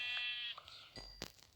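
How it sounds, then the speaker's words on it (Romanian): Sheep bleating, one wavering high call near the start followed by fainter, shorter sounds and a brief scuffle, quiet and somewhat distant with no talk. "Și încă o oaie aici."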